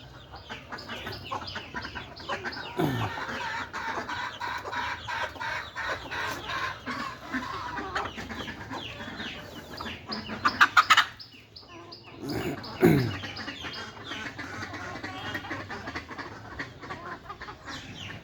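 Hens cluck steadily in a coop where a brooding hen sits on a clutch of eggs, with soft, overlapping calls nearby and a few louder squawks rising in the middle.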